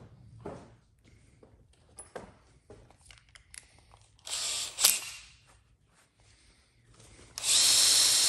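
A handheld drill runs in short bursts while buffing polish onto pinball machine hardware, with clicks and handling noises between runs and a longer, louder spin at the end.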